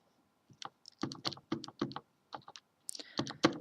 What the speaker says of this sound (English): I keep typing the wrong thing in